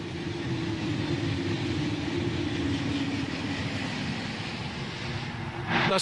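A high-speed train at 300 km/h roars past on a British railway line in a steady, loud rush of rail noise, with a sharp gust of air near the end.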